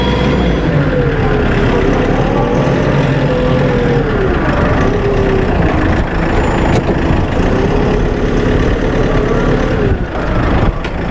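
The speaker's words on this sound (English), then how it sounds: "to reverse the tractor, simply clutch, shuttle," A Kioti RX tractor shuttles between forward and reverse, its engine giving a loud, steady diesel drone with slight shifts in pitch.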